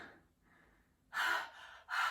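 Heavy breathing from a woman doing a barre workout, a faint breath followed by two loud, close, forceful exhalations in quick succession.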